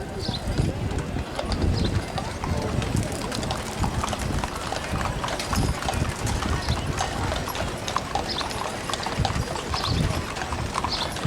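A pair of Belgian horses pulls a genuine Studebaker wagon in a small-town centennial parade in Winifred, Montana, hooves clip-clopping in a steady, loud, close rhythm on the road while a voice talks over the procession.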